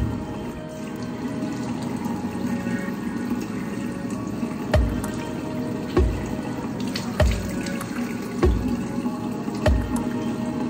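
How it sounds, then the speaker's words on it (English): Water runs steadily from a sink tap during a morning face wash, a constant close splashing stream with a few soft knocks and taps on the basin, no talking. "The first thing I do when I wake up is wash and moisturize my face."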